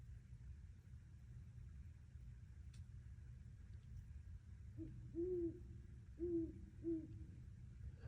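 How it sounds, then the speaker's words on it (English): Owl hooting from a tree just above a tent at night: three low hoots in quick succession near the end, clear over a steady background hum, with no talk. "He's right above me in the tree."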